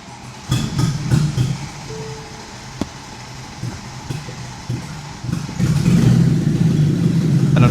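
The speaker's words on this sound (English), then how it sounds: "The engine would basically cough a few times and then die." A Mercedes C63 engine cranks and coughs a few times with uneven bursts, briefly catching before fading and dying, then cranking again into a sustained louder rumble, close and with no voices.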